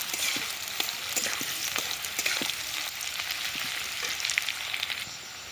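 Onions fry in oil in a pan until browned, giving a steady close sizzle with occasional stirring clicks and no talk.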